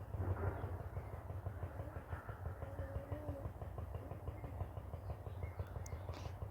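A sewing machine stitches the side seam of a ladies' pant, sending out a fast, steady mechanical chatter with a rhythmic low thump, continuous and fairly quiet.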